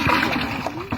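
Fish tipped from a pot splash and splatter into water at a pond, a loud close pour lasting about a second, with voices nearby.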